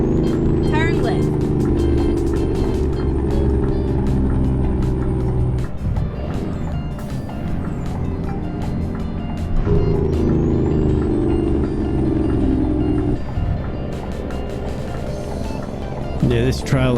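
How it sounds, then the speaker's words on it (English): A truck towing a rear-steer farm machinery trailer drives in Euro Truck Simulator 2, a steady low engine drone with gear-shift dips and occasional clicks, while someone talks over it throughout. "this trailer follows this truck really well with that rear steer"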